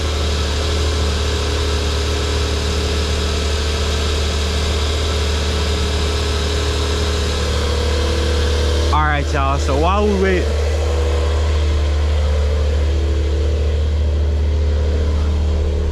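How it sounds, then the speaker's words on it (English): A 2021 Porsche 911 Carrera Coupe with dual exhaust idles steadily in a low, constant drone, a person speaking briefly over it partway through. "this car is so loud"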